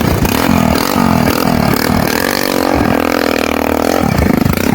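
A Pulsar 150 motorcycle engine running close by, loud and rough, with the revs rising and falling in uneven surges and a rattly, clattering edge.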